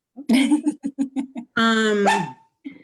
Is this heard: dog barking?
yes